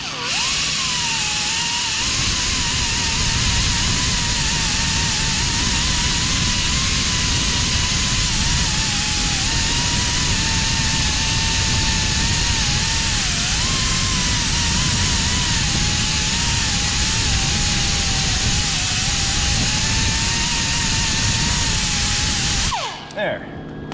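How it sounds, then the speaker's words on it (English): A small Zizzy abrasive wheel on a high-speed tool grinds and cleans a scrap brake rotor before welding, a loud continuous whine with a wavering pitch that stops abruptly near the end. "I'll use my same little Zizzy wheel for that, just to clean up the area."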